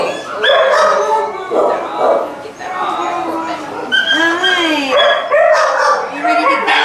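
Homeless dog with mange whimpering, crying and yelping in high, wavering cries close by, with a few sharper barks mixed in and people talking around it.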